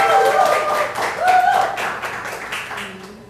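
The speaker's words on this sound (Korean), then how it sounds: "큰 박수 부탁드리겠습니다." Audience at a book author's lecture clapping, a crowd's applause heard under a voice talking over it, fading toward the end.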